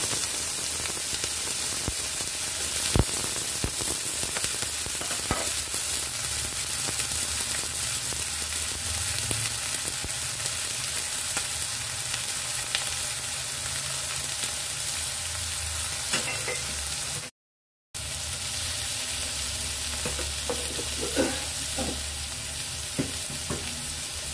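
Eggplant pieces frying in oil with salt and turmeric give off a steady, close sizzle with scattered pops and stirring scrapes, continuing alone without speech.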